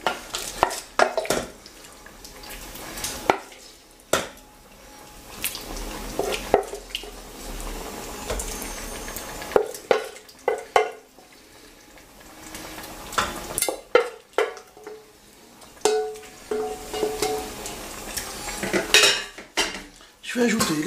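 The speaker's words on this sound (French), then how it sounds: "Allez, j'ajoute les champignons." Mushrooms go into a pot of veal marengo and get stirred, with sharp metal utensil clanks and scrapes against the pot coming in irregular bursts over a faint simmer.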